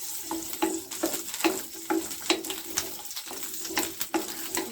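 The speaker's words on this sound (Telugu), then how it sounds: "ఇప్పుడు అదే ప్యాన్లో పచ్చిమిర్చి 12 వేసుకొని పచ్చిమిర్చి తడిపోయిన తర్వాత ఆయిల్ 1 ఆయిల్ స్పూన్ వేసి పైన చూపిస్తున్న విధంగా మీడియం ఫ్లేమ్లో వేయించుకోవాలి." Green chillies frying in a spoonful of oil in a pan over medium flame, a steady close sizzle broken by regular clinks of a spoon stirring against the pan, with no talk.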